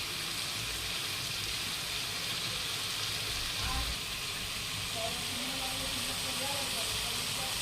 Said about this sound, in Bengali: মাংসটা আস্তে আস্তে কষানো হচ্ছে